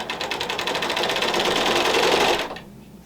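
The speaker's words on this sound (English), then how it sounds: "take a few stitches" A sewing machine stitches a quilt seam in one rapid burst of even, mechanical clatter lasting a couple of seconds, then stops abruptly, leaving near silence.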